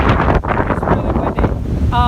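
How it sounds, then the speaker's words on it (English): Heavy wind buffets the microphone with constant low rumble and gusts, over faint talking; a brief tonal beep or whistle appears at the end. "It's really windy."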